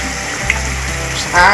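Fish curry simmers softly in a pot, then a brief louder splash and sizzle as fish is dropped into the hot curry.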